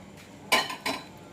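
Two sharp, bright knocks of a small pestle striking peppercorns in a little mortar, a brief gap between them, in a quiet room.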